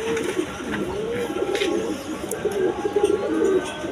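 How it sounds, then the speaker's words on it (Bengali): A pair of cappuccino pigeons coo softly and repeatedly in a steady, low burbling rhythm, close by, over faint background hum. "এইখানে এক পেয়ার ক্যাপাচিনো কবুতর আছে"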